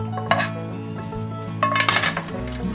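Beef and vegetable mixture scraped from a pan into noodles and stirred, close clinks and knocks of a metal utensil against cookware in uneven bursts.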